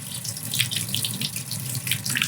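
Warm water pouring from a tap over an ABS resin 3D print, rinsing off the support material: steady, close splashing and trickling under a faucet stream, continuous with no talk.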